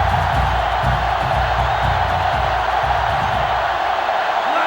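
A loud, roaring stadium crowd cheers steadily at a college football game in NCAA Football 07, a dense wash of noise that fills the whole stretch without letup.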